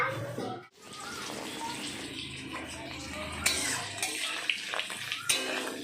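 Running tap water splashes steadily as fish is washed in a kitchen sink, with some handling noise and sharper splashes toward the end, close and fairly loud.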